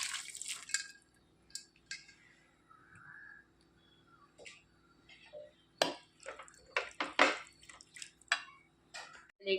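Cooked pumpkin mixture for a Kerala-style pumpkin curry is added to a pan on the stove, giving a handful of wet drips, soft splats and light clinks of a utensil against the pan, close and fairly quiet, with no talking.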